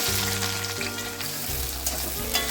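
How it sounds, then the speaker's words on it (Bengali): Onions frying in hot mustard oil for chicken biryani, a loud steady close sizzle with crackling bursts and a low hum underneath, no voices. "তেল গরম হয়ে গেছে, বেরেস্তাটা ভেজে নিচ্ছি।"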